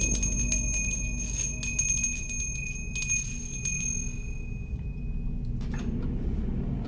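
A bell tolls repeatedly, bright ringing strikes with long sustained overtones that decay over several seconds, fairly clear against a low rumbling background.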